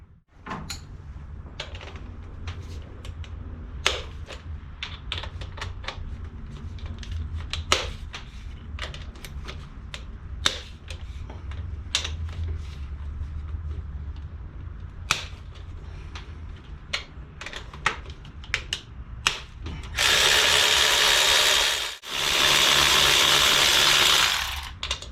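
A ratchet loosens 10 mm valve cover bolts on a Honda engine in a run of sparse, sharp clicks and clanks, ending with two loud, continuous bursts of rapid spinning ratchet noise.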